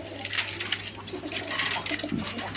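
Pair of red Rajgolla pigeons cooing softly nearby, throaty murmurs repeating over a steady low hum.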